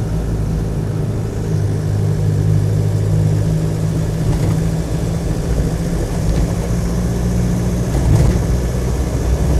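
Engine of a Land Rover 90 2.5D hardtop while driving, a loud, steady diesel drone with road rumble inside the cab and only small changes in pitch.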